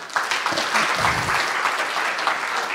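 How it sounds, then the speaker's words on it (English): Audience applause at the close of a scientific conference session on CRISPR-Cas systems: a dense, steady burst of clapping from a crowd, close and loud throughout, with a faint voice underneath. "have a round of applause for all the speakers of this session"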